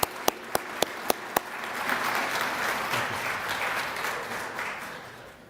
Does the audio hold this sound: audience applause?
yes